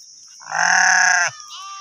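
A single loud, harmonic bleat lasts about a second from goats in a grazing field, close by and alone, with no talk around it.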